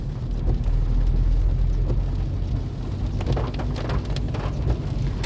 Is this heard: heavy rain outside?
yes